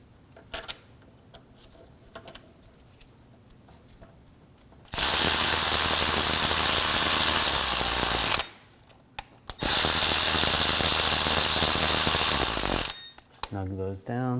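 A power ratchet tightening the engine torque strut mount bolts on a 2001-2009 Volvo S60: two long, loud, steady whirring runs of several seconds each, separated by a brief pause, with quieter workshop handling noises before and after.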